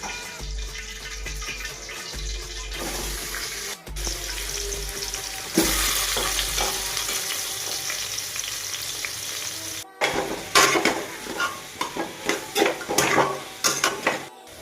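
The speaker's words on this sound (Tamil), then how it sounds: "நெக்ஸ்ட்டு வாழைக்காவை வந்து இதை போட்டுடலாம்." Plantain slices fry in hot oil in a pan, a continuous loud sizzle, then a burst of stirring with utensils scraping and clinking against the pan.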